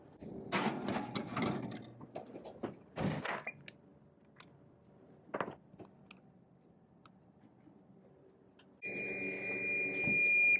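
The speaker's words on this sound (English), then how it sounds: "timer is done" An oven timer goes off near the end, a steady loud electronic beeping tone that starts suddenly and holds after earlier kitchen clatter and knocks, during a low-carb baking session with peanut butter muffins.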